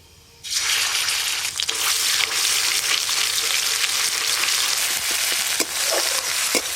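Black cumin seeds sizzling in hot mustard oil in a kadai, a loud, steady frying hiss that starts abruptly and holds throughout, with small crackles and pops near the end.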